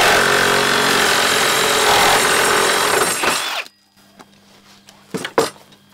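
A reciprocating saw cuts loudly and continuously through wood with nails in it for about three and a half seconds, then stops abruptly, followed by a few sharp handling knocks.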